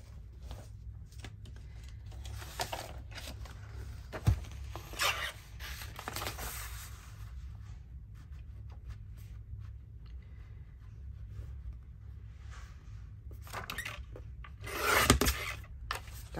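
Paper is cut for a hardcover envelope journal, a faint dry rasping and rubbing with irregular scraping strokes and a few sharp clicks, all at close range.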